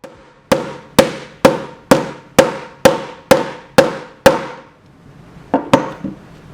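A hammer strikes an iPhone 6 screen protector about ten times in a steady rhythm, each hit a sharp, loud crack, the last few lighter and less regular.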